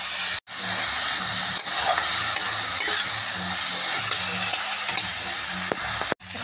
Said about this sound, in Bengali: দেখুন মশলাগুলো ভেজে নিচ্ছি।